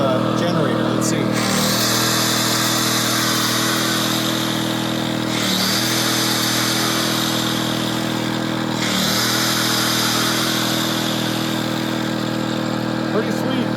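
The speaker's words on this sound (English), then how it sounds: "my grinder plugged in here is probably going to be louder than the generator" An angle grinder plugged into an Erayak 4500P portable inverter generator runs steadily and loudly throughout, a constant mechanical whine and engine drone with brief dips in pitch every few seconds.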